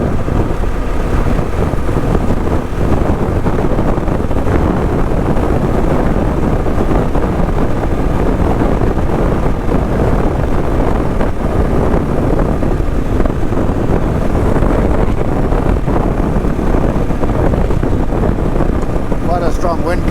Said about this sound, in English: Strong wind coming in now from the left.